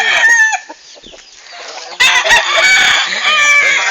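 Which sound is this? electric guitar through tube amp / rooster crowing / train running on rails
rooster crowing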